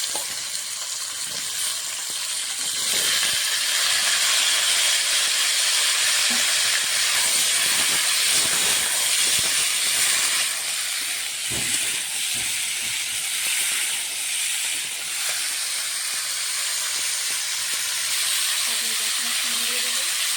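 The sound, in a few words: whole cumin, potatoes and stalks sizzling as added to hot oil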